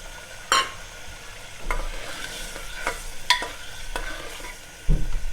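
Boiled chickpeas get stirred into a sizzling onion-tomato gravy for chana curry, a ladle scraping and clacking against the pan in several sharp strokes over a continuous frying hiss, with no talking.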